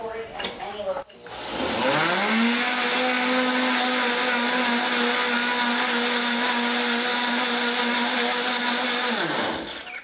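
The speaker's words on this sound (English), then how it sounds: "this could take 1 to 5 minutes depending on the strength of your blender or your food processor" A blender or food processor grinds sugar with tapioca starch into powdered sugar, starting with a sharp whir and holding a loud, steady motor roar for several seconds before spinning down.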